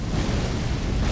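A deep, continuous rumbling boom fills the whole moment, loud and low with no gaps, like a sustained explosion in the video game Elden Ring: Shadow of the Erdtree.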